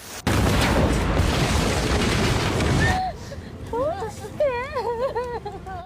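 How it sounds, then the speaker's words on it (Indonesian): A bomb strapped to a body explodes in a Rurouni Kenshin film scene, a loud sustained blast and rumble lasting a few seconds, followed by quieter movie sound with voices. "dia menyiapkan sebuah bom yang dipasang dengan tubuhnya dan meledakkan"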